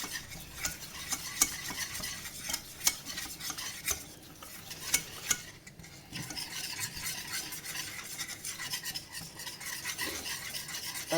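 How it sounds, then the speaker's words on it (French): A spoon steadily stirs flour into melted butter in a pan to make a roux for béchamel, with continuous scraping and soft sizzling plus occasional sharp utensil clicks, close and moderately loud, no voices. "Quand notre beurre est fondu, on y balance notre farine. On mélange bien."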